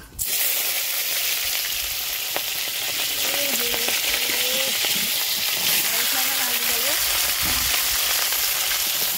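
Black cumin seeds and chillies sizzle steadily in hot oil in a home kitchen, a loud continuous frying hiss with occasional stirring clinks, while a voice speaks briefly in the background.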